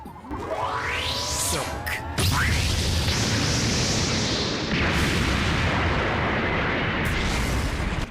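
A loud, roaring cartoon explosion from One Piece with sweeping, whooshing effects at the start, followed by sustained rumbling blasts and a couple of sharp bursts.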